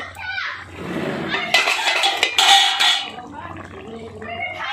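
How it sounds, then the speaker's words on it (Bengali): A metal lid is lifted off a cooking pot of sea crab in poppy-seed paste, giving a brief clatter of metal on metal amid kitchen noise and light stirring sounds. "ঢাকনাটা খুলে নিচ্ছি"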